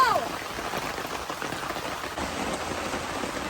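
Steady rain falls at a primitive campsite, a dense even hiss of drops on surfaces that continues throughout, close and moderately loud.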